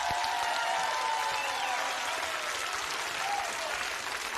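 Audience applause after a singer's performance, a dense continuous wash of clapping from a crowd that stays steady and fairly distant throughout, with no voices on top.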